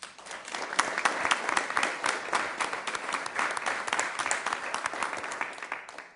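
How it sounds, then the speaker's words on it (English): Sustained applause from a large crowd at a city council meeting, dense steady clapping filling the whole stretch. "Dan, we got to give you a round of applause."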